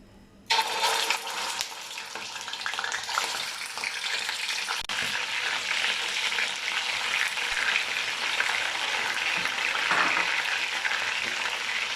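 Chicken dropped into hot onion-flavoured oil for korma biryani erupts into a dense, loud, continuous sizzle that starts suddenly and holds steady and close throughout.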